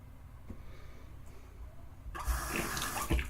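Running water starts from a tap partway through, a close, steady splash as a bearded face is wetted at the sink before a shave stick is used, with faint handling sounds beforehand.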